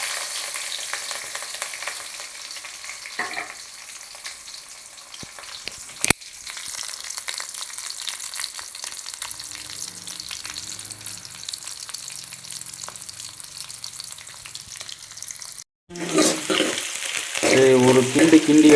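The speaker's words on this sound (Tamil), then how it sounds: "அடுத்து ஆனியன், பச்சை மிளகாய் இது ரெண்டையும் கபார்னு கொட்டிடலாம்." Onion and green chillies tipped into hot oil for a Tamil fish curry, giving a steady broadband sizzle with faint stirring; a sharp clatter partway in, then a louder, fresh burst of frying near the end.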